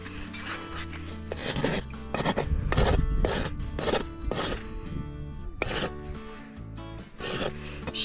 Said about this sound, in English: this is a pretty new sharp rasp. And I'm just coming straight down at the toe here.